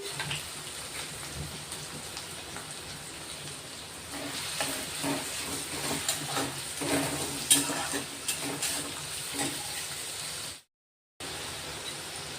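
Chopped onions dropped into hot oil in a pan for a vegetable curry, giving a steady close crackling sizzle that grows louder midway, with occasional stirring clatter and a brief dropout near the end.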